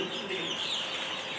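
A rooster at a petting zoo in Angarsk crows with a strained, drawn-out call amid a steady hiss of outdoor background noise, fairly close and moderately loud.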